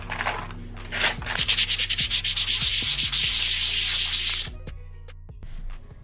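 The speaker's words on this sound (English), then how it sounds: "I'm going to go ahead and gently use some sandpaper" Sandpaper rubbed gently over a small case for a DIY craft, a close rhythmic rasping of short back-and-forth strokes for several seconds, then a few lighter scratches as it tapers off.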